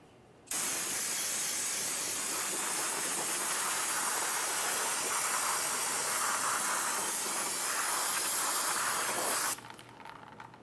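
An aerosol can of brake parts cleaner sprays in one long, loud, continuous hiss onto the rear brake area of a 2006-2011 Honda Civic, then cuts off sharply.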